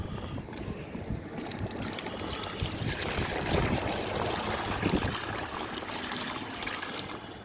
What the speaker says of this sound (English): Now I'm going to fill it with water